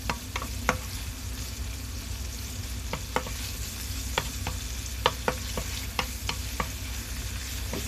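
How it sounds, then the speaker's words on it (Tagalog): Ham sautés in a pan with a steady, fairly quiet sizzle, broken by repeated clicks and scrapes of stirring. "Gisa-gisa lang tayo ng ating ham."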